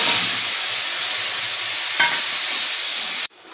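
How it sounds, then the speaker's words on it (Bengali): Ginger-cumin paste frying in oil with five-spice gives a loud, close, continuous sizzle with one brief sharper spit partway through. The sizzle cuts off abruptly near the end. "এবার এই 5 ফোড়নের মধ্যে আদা জিরে বাটাটা দিয়ে দেবো।"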